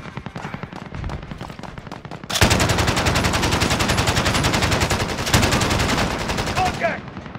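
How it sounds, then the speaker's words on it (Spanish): Enemy gunfire aimed at the player in a video game: a dense stream of rapid automatic shots, first moderate and then suddenly louder and sustained, with brief pulses of heavier fire. "Me están disparando"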